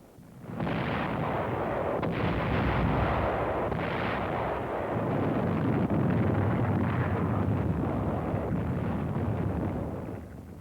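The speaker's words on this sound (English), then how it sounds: "Artillery, supported by tanks, went to work on the enemy's defensive line." WWII artillery fire on Okinawa, heard in an old newsreel as a loud, continuous rumbling roar of blasts that stays dense and heavy throughout with no voices.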